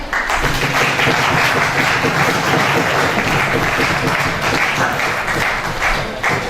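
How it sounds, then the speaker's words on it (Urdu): Loud, continuous applause from an audience at a poetry gathering (mushaira), dense clapping sustained throughout as a poet is welcomed to the stage. "تو میں چاہتی ہوں کہ بھرپور تالیوں میں آپ استقبال کریں"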